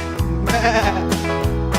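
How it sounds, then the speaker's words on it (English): Sheep bleat on a farm, four or five wavering nasal bleats in quick succession, close and clear with nothing else underneath. "Right, the sheep go as the farmer shears their wool."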